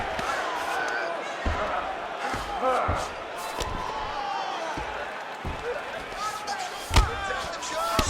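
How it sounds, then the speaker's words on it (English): Ground-and-pound strikes in the EA Sports UFC 4 video game land as sharp, repeated thuds with an uneven rhythm over a steady arena crowd murmur. "Ground and pound strike there now."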